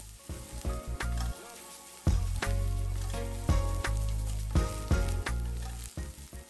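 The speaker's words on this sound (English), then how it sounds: "as well as our onions, and just fry that for a few minutes" Onions frying in a pan for lobster pasta, a loud continuous close sizzle broken by repeated thumps and stirring knocks as they are moved around, no voices.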